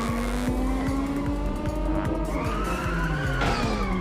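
Racing car in the video game Inertial Drift, its engine note rising and falling through gear changes while tires squeal and skid in drawn-out bursts, loud and close, with no talk.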